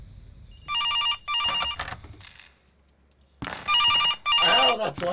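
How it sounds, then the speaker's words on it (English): A telephone in the horror video game CASE: Animatronics rings loudly in repeated double bursts, pausing briefly between rings and starting again after a quiet gap, with faint speech underneath. "Phone, where is it?"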